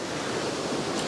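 A sea wave splashes on a rocky seascape shore, a steady broad wash of surf filling the short moment at close range, with a faint hiss rising near the end and no talking.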